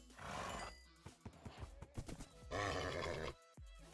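A horse in the Minecraft video game neighs loudly twice, separated by a run of quick clip-clop hoof steps, all sharp, close game sound effects.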